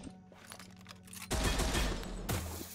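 Light machine gun fire in the sci-fi multiplayer shooter Unfortunate Spacemen: a sustained, dense burst of rapid shots starts about midway and runs to the end, loud and close over low game ambience.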